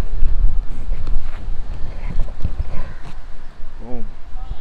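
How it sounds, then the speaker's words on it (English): Strong wind buffets the microphone outdoors in Zanzibar, a loud, continuous low rumble with gusting swells throughout, and a brief tonal squeak near the end. "this wind is blowing crazy"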